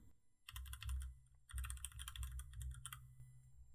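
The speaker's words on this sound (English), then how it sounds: "I will simply type in or paste in the URL for Google" Typing on a computer keyboard while entering a web address in a WordPress editor: two quick bursts of close, crisp key clicks, the first short and the second longer and steady, with no talking.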